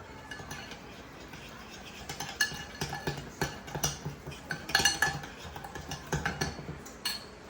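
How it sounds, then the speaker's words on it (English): A metal spoon clinks and scrapes against a bowl while stirring cinnamon into boxed cake batter, a quiet, irregular series of taps and rattles close by. "I'm just going to use a spoon to stir this"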